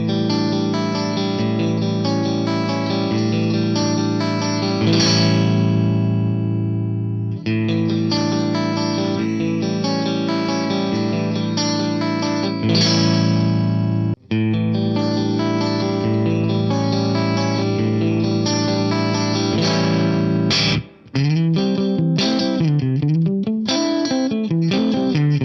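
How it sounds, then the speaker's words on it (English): Electric guitar chords through a Soldano amp rig ring out with compressed, sustained tone and a small-room studio reverb tail, played continuously with brief breaks between phrases. "I'm going to add the studio reverb at the stock settings for a small room style sound"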